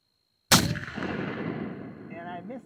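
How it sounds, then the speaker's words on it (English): A Howdah 20 gauge gun loaded with buck and ball fires a single loud blast at a watermelon outdoors, followed by a long rolling echo that fades out. "All right, I'm going to shoot the watermelon."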